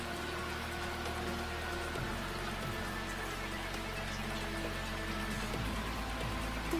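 Steady rain pours throughout a scene in a visual novel game, a dense even hiss of drops on surfaces with a low background hum and no voices.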